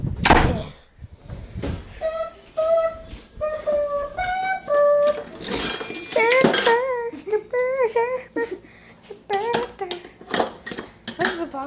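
A door is bumped as people walk inside, giving a couple of dull thunks and knocks among clinking kitchen sounds, with voices talking over it.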